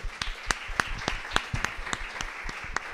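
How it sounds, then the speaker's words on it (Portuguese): A congregation applauds during a religious gathering. Crisp individual claps stand out over a softer bed of many hands, keeping a steady, lively pace throughout. "Vamos aplaudir esse momento."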